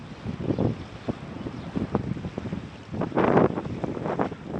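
Strong wind buffets the microphone beside a large lake at Nong Chang in Xonnabouly, Savannakhet, a steady rough roar with gusts swelling louder toward the end.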